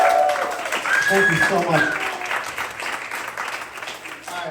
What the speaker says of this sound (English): give a round of applause for these people